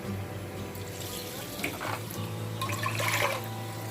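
Tap water runs steadily into a cooking pot on a kitchen stove as sorrel is prepared for a puree, a continuous close splashing hiss that swells slightly near the end, with no talking.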